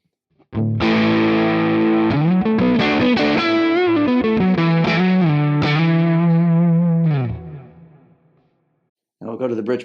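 Electric guitar crunch tone played through a Quad Cortex amp capture, a loud distorted run of chords and picked notes ringing for about seven seconds, then fading to silence before another strum starts.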